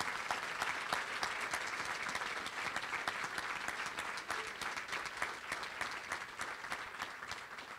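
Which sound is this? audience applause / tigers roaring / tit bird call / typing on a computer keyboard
audience applause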